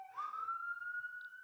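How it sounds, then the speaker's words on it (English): An ambulance siren sounds in the background as a steady, rising wail that holds one sustained tone, faint and distant but continuous throughout. "I don't know if y'all can hear the ambulance in the background,"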